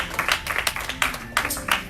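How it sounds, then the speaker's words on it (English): A church congregation claps in quick, uneven bursts, a short spell of dense hand clapping heard close and fairly loud. "today the clapping is very powerful for me"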